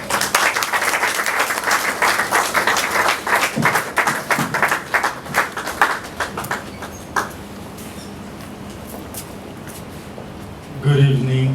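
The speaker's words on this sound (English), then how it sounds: "Please, with a round of applause, show some love." An audience at a peace summit in Ghana applauds loudly for several seconds, the clapping gradually thinning out before a voice begins speaking.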